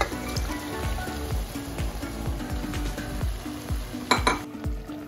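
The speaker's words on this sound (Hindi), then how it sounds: "अब जो इसमें है हमारा गोश्त भी डाल देंगे" Mutton goes into a pot with green chillies for Hyderabadi dal gosht, sizzling loudly and close while a utensil scrapes through it in quick, repeated stirring strokes, with no talk.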